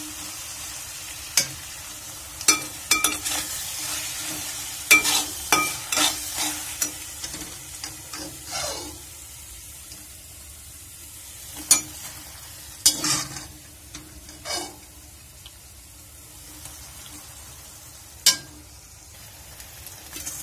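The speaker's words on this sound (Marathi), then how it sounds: "पास्ता टाकते आता मसाल्यामध्ये" Macaroni pasta is tipped into frying masala in a pan and stirred, giving a steady low sizzle broken by repeated sharp scrapes and clinks of the spoon against the pan, with no voices.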